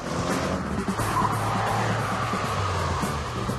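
An Audi RS6's V8 biturbo engine with stock exhaust revs hard and accelerates with a deep, sustained roar and some tire noise, loud and continuous throughout.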